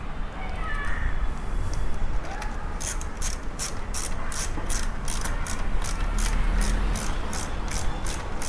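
A ratchet wrench clicks in rapid, evenly spaced bursts while running in the bolts of a Honda CBR 250 R motorcycle throttle body, with close mechanical handling noise around it.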